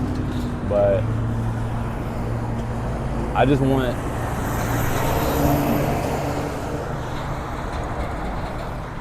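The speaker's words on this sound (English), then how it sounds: "I'm hoping that this traffic isn't too loud right here" Street traffic passes close by as someone prepares to cross the road, a steady roar of vehicles and road noise beneath someone talking, with a few brief squealing brake-like tones.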